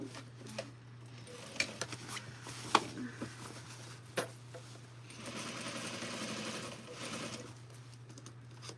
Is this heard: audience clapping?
no